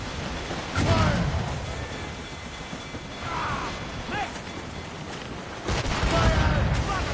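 Ship cannons fire during a naval battle in Assassin's Creed Rogue. Several heavy booming volleys burst out at intervals over a rumbling sea-battle backdrop, with voices shouting between the shots.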